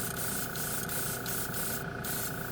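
Airbrush fitted with a spray gun nozzle spraying paint, giving a continuous, even hiss with a faint steady buzz underneath, fairly quiet and close, with no voices.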